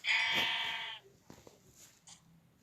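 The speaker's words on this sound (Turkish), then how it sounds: "Koyunmuş. İskeletor zannettim." A sheep in the video game Minecraft gives one clear, close bleat about a second long, followed by faint scattered game noises.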